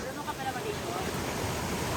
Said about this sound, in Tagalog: nasa background natin ang napaka lakas na agos ng ilog